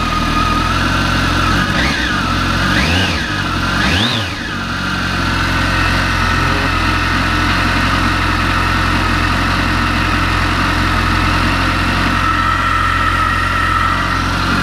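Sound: Kawasaki ZX14 ZZR1400 motorcycle engine running while warming up

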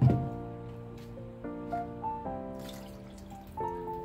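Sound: water poured into pot for chicken soup

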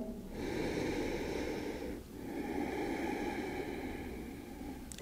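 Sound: deep breath during yoga

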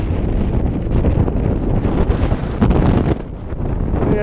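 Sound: strong wind on a mountain summit

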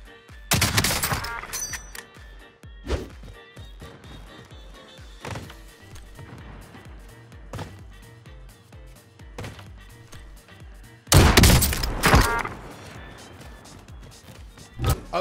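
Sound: synchronized gunshots in Warzone video game

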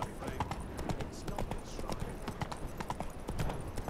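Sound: Witcher's horse Roach hooves clip-clopping, from video game The Witcher 3

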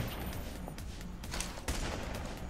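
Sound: gunfire shooting snipers in video game Payday The Heist

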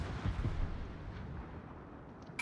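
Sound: battleship gunfire in a naval video game

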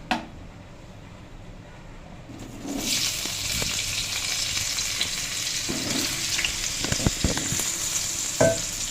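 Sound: potatoes frying and stirred with cumin and bay leaf tempering

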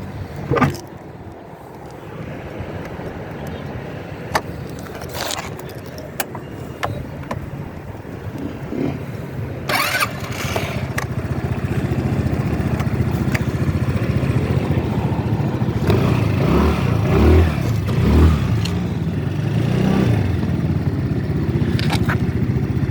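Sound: Volta APEC 125cc motorcycle engine starting and revving

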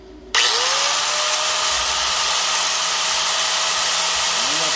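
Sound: electric grinder running on solar battery power

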